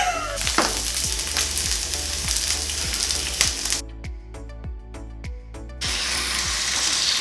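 Pork belly frying in a hot pan, blackening as it chars, gives a loud, dense sizzle with scattered pops and crackles. The sizzle drops briefly to a lighter crackle partway through, then surges back to full strength.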